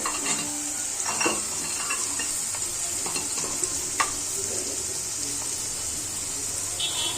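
Chicken sizzles in a pan with ginger garlic paste and ground spices, a steady bright hiss under intermittent scrapes and clinks of a spoon stirring against the metal.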